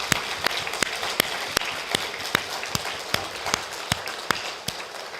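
A Korean church congregation claps at an evening revival Bible meeting. Sharp, evenly spaced beats, roughly two or three per second, stand out above a dense bed of scattered clapping and continue steadily for five seconds.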